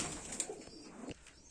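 Pigeons in a full loft of show birds kept for flying, cooing softly over a low, busy background hum.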